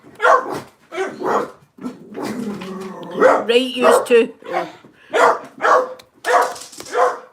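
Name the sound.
small dog barking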